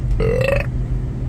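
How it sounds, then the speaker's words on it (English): A single loud burp after drinking Henry Weinhard's orange cream soda, a rising tonal belch lasting about half a second over steady low background noise, close to the listener. "I got a burp out of it."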